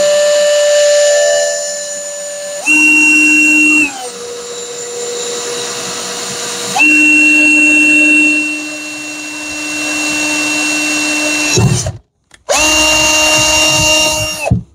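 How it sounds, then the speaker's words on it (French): A power drill bores a hole in a moped brake bracket on an MBK Nitro, running in loud sustained bursts with steady whining tones, pausing and restarting several times, briefly cutting out near the end before spinning up again. "tu te mets là et tu viens percer l'autre"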